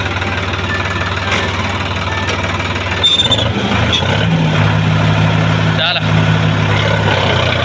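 A Sonalika tractor engine running at a steady idle, a loud close diesel rumble with a slight shift in pitch partway through, while someone talks over it.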